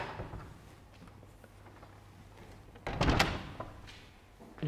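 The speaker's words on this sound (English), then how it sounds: "Here I close the door" A workshop door being closed at a workbench, a short dull thunk with a brief rattle over a quiet room hum, heard near and alone.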